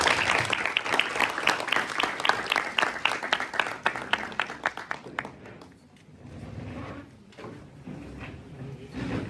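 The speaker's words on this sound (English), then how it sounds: "Please welcome Ma'am with a huge round of applause once again." An indoor audience at a medical college event applauds to welcome a professor of medicine. The dense clapping fades after about six seconds into scattered claps and faint room noise.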